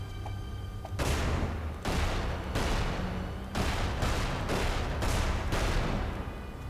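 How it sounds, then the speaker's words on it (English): Gunfire in the game Magicka comes as a string of loud, close bursts, about nine sharp blasts each decaying over a fraction of a second in a loose rhythm. "Can you stop shooting just me?"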